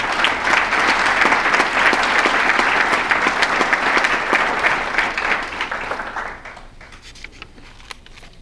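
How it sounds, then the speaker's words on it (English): A banquet audience at a bowling hall of fame dinner claps loudly and steadily for inductees, dense hand claps filling the room before tapering off into scattered claps near the end. "Let's give them all another round of applause."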